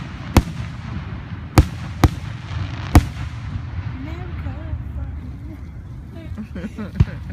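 Fourth of July fireworks bursting at a distance, five sharp booms spaced irregularly over a steady crowd murmur, with people talking and a few voices rising nearby.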